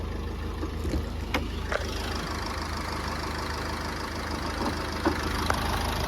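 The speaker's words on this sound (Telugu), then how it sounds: "ఇంజన్ నాయిస్ వినొచ్చు" A Ford EcoSport car engine idles steadily at close range, a low even rumble with a few faint clicks over it.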